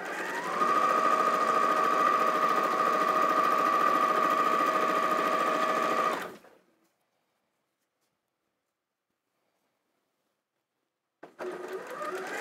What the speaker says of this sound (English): you're just feeding the fabrics in one after the other and just sewing them all together in one go